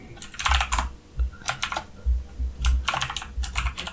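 Rapid keystrokes on a computer keyboard while writing Java code, coming in several quick bursts separated by short pauses, close and clear with no talking.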